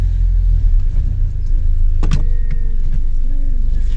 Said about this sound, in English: It's driving. It sounds a lot different. The turbo noises are like deeper